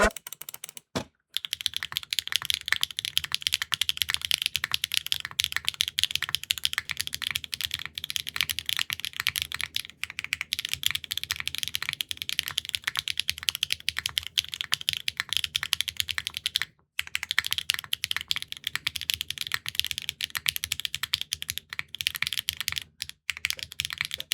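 Mechanical keyboard with original HMX Sunset Gleam switches on a carbon fiber plate, typed steadily: a dense, fast stream of crisp clacky keystrokes, close and loud, with brief pauses between runs.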